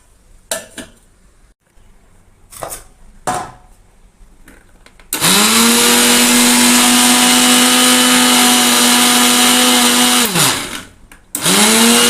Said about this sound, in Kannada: ನಾನು ಮಿಕ್ಸರ್ಗೆ ಹಾಕ್ತೀನಿ.